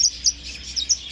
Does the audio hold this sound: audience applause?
no